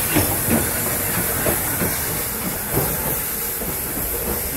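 Steam locomotive 1309 of the Western Maryland Scenic Railroad rolls down the mountain toward Cumberland, a loud steady hiss of steam over rumbling wheels and faint rail clatter, continuous throughout.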